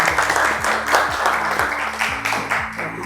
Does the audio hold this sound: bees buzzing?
no